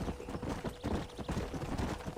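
Horse hooves clip-clopping in the Red Dead Redemption video game, a steady rhythmic trot over ground, close and continuous throughout.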